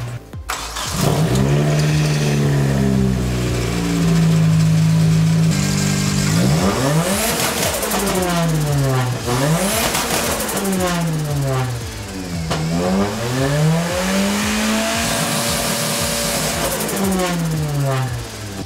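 A Nissan 240SX with a turbocharged KA24DET four-cylinder and blow-through MAF setup cranks, fires up loudly and settles, then is revved repeatedly in rising and falling sweeps, close and alone in a garage.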